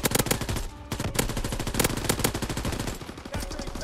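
M1941 fire in Call of Duty WW2, fast and continuous automatic bursts with a heavy punchy rattle, loud and close, a short pause before the shooting picks up again.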